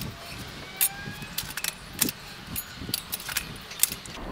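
Metal tyre irons clink and scrape as they are worked into the rim of a dirt bike wheel, sharp close taps and jangles scattered irregularly over a quiet background.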